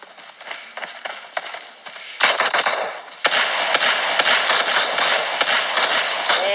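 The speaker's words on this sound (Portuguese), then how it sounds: "Tem alguém atirando." Automatic gunfire from PUBG, the battle royale shooter, breaks in as a sudden loud sustained burst of rapid shots after a quieter stretch of faint scattered sounds, then continues in dense repeated volleys to the end.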